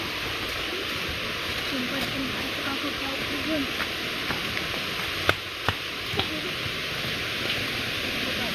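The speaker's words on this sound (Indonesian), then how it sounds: "Inilah air terjun Kendawangan." Waterfall at Klukup Blntak in Kendawangan pours as a steady, even roar of rushing water, broken by a few sharp knocks near the middle.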